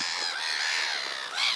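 A flock of birds and geese, including a white-headed goose, squawks at feeding time in a loud, continuous wall of overlapping shrill calls with no pause and no talking.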